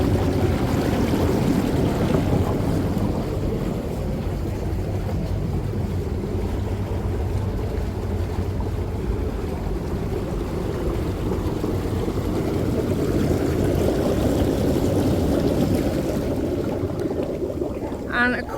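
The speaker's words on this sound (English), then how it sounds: "So just here you've got a nice hot tub. I'm just going to put the bubbles on for you guys so you can see." Bubbling hot tub jets at an outdoor Spanish villa, a steady broad rushing and churning water roar running continuously and fairly loud throughout, with little change in level.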